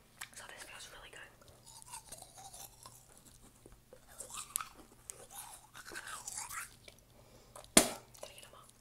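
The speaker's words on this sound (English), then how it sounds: "To brush the retainer." A toothbrush scrubs teeth and a plastic retainer up close. The bristles make soft, wet, rhythmic scratching under quiet whispering, and a sharp clink sounds near the end.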